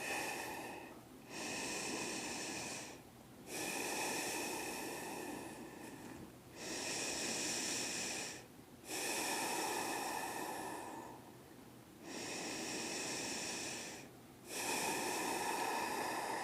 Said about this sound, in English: in our sun salutations here, we take anywhere from 3 to 5 slow breaths